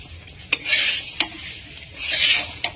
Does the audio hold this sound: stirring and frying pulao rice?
yes